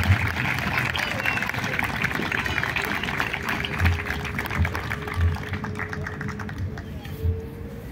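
An audience applauds at a Chilean Navy ceremony at the Arturo Prat Naval School marking the anniversary of the Naval Glories, with steady crackling clapping and speech running over it.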